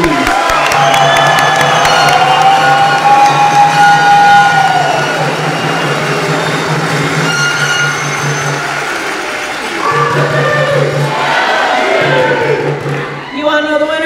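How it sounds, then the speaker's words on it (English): An audience at a military awards ceremony applauds and cheers for the NCO of the Year nominees, a dense wash of clapping and crowd noise over a steady low hum, briefly dropping before swelling again. "Please join me in a round of applause for all of our NCOs of the Year nominees."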